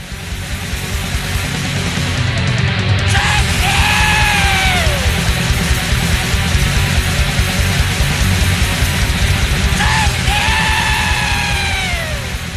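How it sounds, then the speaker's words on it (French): Piercing, high-pitched black metal screams from a band's singer ring out in two long wailing, bending cries over a dense, distorted wall of guitars and drums. "connu pour ses cris perçants, aigus et ultra bizarres"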